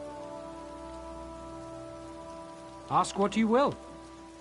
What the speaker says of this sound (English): I could do without this damnable rain.